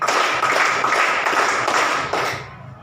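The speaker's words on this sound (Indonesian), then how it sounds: "Anak bijak tepuk 5 kali." A class of children in a school lesson clapping together in unison, a dense burst of claps lasting about two seconds and then stopping, fairly loud and close.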